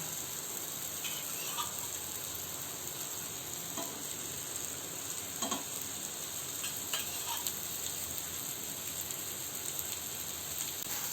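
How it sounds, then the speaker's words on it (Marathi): Besan cheela batter sizzling in oil on a pan, a soft steady crackle with a few faint utensil clicks, no voices. "असं हे बॅटर घालून घ्यायचं आणि चारी साईडने तेल सोडा"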